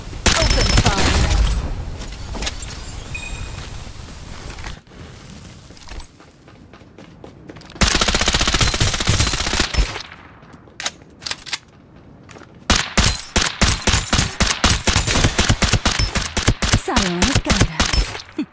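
Gunfire in a video game crackles in loud rapid bursts and sustained volleys, pausing briefly before resuming in dense automatic fire, close and dominant with some game noise between volleys.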